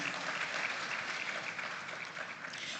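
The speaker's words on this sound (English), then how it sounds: "Please, a round of applause for her." An audience applauds at a school farm awards grand final, dense and even clapping that fills the space for a few seconds, fairly distant and without any voices over it.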